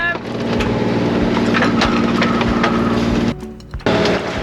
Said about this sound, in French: on est toujours au moteur parce que le vent se lève vraiment pas